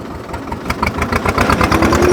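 A 1968 Russian T-25 tractor engine runs close by with a steady, rhythmic diesel chugging that grows slightly louder and fuller over the couple of seconds, with no voices.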